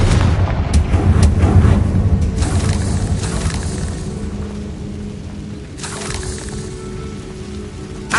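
A Confringo fire spell from Hogwarts Legacy bursts in a heavy, rumbling blast, with dense crackling noise trailing off and a second sharp burst near the end.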